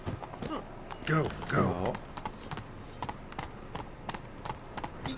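Horse hooves clip-clop in The Witcher 3 video game, a rhythmic series of light clopping steps mixed with in-game voices and a player talking over them.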